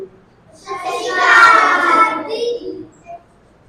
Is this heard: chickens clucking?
no